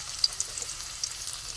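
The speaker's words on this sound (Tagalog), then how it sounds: "Ilagay na natin ang ating sibuyas at saka bawang guys." Onion and garlic sauté in cooking oil for an adobo of fern greens, a soft continuous sizzle with a few small pops, faint and close, without talk.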